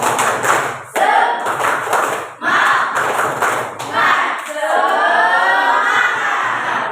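A classroom of pupils performs the tepuk semangat rhythmic clapping chant, sharp clap patterns alternating with shouted group chanting, loud and close, ending in a drawn-out collective cheer.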